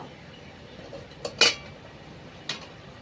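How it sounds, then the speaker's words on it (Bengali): A metal lid is lifted off a cooking pot of simmering egg and cauliflower curry, giving one sharp clink followed by a fainter metallic tap about a second later, close by against a quiet kitchen. "ঢাকনাটা একবার তুলে নেব"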